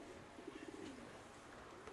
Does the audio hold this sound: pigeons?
yes